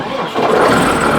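An M115 tractor engine catching and firing up, a short loud mid-pitched roar that rises quickly as it starts, close by.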